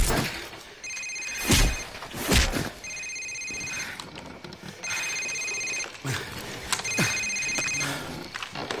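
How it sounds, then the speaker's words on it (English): A cell phone rings in Call of Duty 4 in repeated electronic bursts of about a second each, with short gaps between them and several cycles in a row, over a busy background of thumps and movement. "Sir, it's his cell phone."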